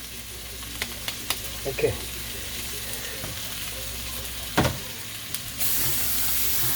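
Cheeseburger slider patties, pressed flat, sizzle steadily on a hot cooking surface, with a few sharp scrapes and taps of a spatula and a louder burst of hissing near the end; one brief spoken word.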